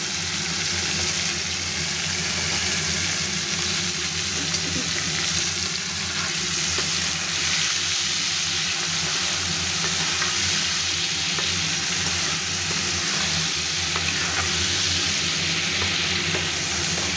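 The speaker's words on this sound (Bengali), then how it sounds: "লবণ হলুদ দিয়ে আমি একটু হালকা করে ভেজে নেব" Prawns sizzle steadily in a hot pan, frying lightly with salt and turmeric, a constant close crackle and hiss with faint stirring and no talk.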